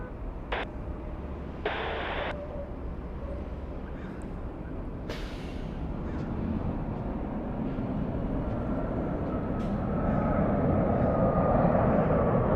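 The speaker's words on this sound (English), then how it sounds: "We're going to stay with the Dreamliner, landing here in the north instead." Jet engine roar from a Boeing 787 Dreamliner landing on the north runway at LAX, a broad steady rumble that swells gradually louder toward the end, with faint distant chatter early on.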